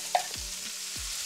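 Sausage and mushroom mixture hitting melted butter in a pan, giving a steady fry with a couple of low scraping stirs, close and moderately quiet, no voices.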